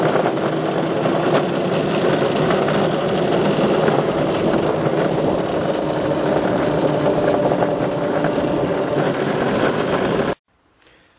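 An electric go-kart powered by a 20 volt lithium-ion cordless battery runs with a loud, steady motor whine and rushing noise for about ten seconds, then stops abruptly.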